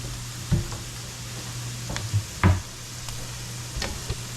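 Hot oil sizzles steadily in a pan as thyme goes in, with a few sharper crackling bursts and spatters standing out over the low continuous frying hiss.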